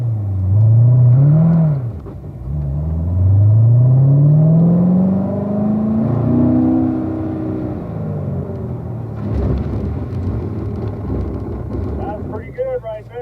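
A Corvette driving on a racetrack around 40 mph during a driving school session, engine swelling and falling in pitch across several passes, with wind buffeting, under an instructor talking.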